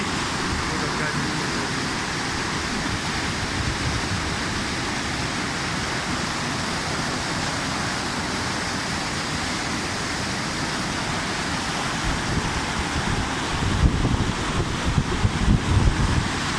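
The Ganga river flows in a steady, broad roar of rushing water that fills the whole scene, with gusting wind buffeting the microphone toward the end.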